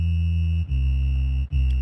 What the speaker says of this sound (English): Lo-fi in normal mode sounds like this.